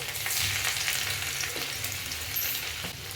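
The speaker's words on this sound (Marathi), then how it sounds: "तेल तापलेलं आहे, आपण आता याच्यात थोडंसं आलं, थोडासा लसूण" Chopped ginger and garlic dropped into hot oil for veg Manchurian, crackling and sizzling steadily at close range with light stirring scrapes, no speech.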